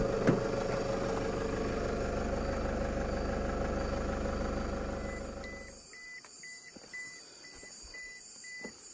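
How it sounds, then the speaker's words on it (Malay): Car engine idling steadily on a quiet roadside at Bukit Ular, then cut off around the midpoint, leaving faint ambient quiet with a few soft beeps afterward. "Saya matikan sekejap enjin kereta"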